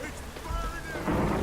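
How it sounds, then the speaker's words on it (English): Steady rain pours in The Witcher 3 video game, a wash of falling water with low rumbling swells that grows louder near the end. "You're in the bloody rain."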